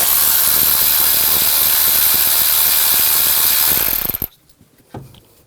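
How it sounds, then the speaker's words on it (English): A ratchet fitted with a 10mm socket backs out a bolt on a 2006-2010 Hummer H3 3.7L, giving loud, rapid continuous clicking up close for about four seconds before stopping abruptly, followed by a couple of faint knocks. "Using a 10mm socket, take this bolt out."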